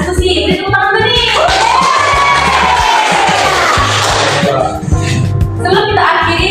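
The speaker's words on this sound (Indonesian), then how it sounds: "Beri tepuk tangan dulu nih." Schoolchildren in a classroom clapping and cheering together after a teacher's lesson, a loud dense burst of shouts and claps lasting several seconds before fading into scattered voices.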